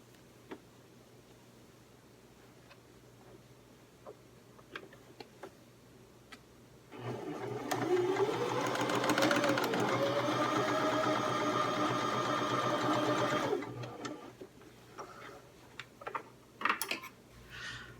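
A sewing machine runs a steady burst of stitching down the side of a fabric tote bag for about seven seconds, loud and close, with scattered clicks and handling noises before and after.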